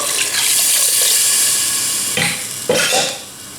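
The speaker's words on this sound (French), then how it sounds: "Je rajoute un demi-litre d'eau." Half a litre of water poured into a cooking pot for Tunisian pasta in tomato sauce, a loud, close gushing splash lasting a few seconds that ends with a couple of sloshing plops.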